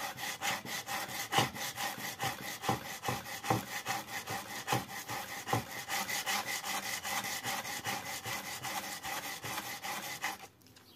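Wood chisel being sharpened by hand on abrasive grit, a steady series of rhythmic scraping strokes back and forth, close and moderately quiet, stopping abruptly near the end.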